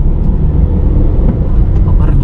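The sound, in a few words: car engine accelerating at about 2000 RPM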